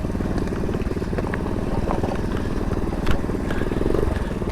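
Vintage Honda ATC three-wheeler trike rock crawling slowly down a small off-road drop, its small engine chugging steadily and close by with a low, even throb and occasional clatter, no voices.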